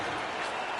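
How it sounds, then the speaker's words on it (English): Arena crowd roaring in celebration of a goal at an NHL hockey game between the Flames and Sharks, a dense, loud, continuous wash of cheering and applause with no breaks. "Crowd celebrates 1-0."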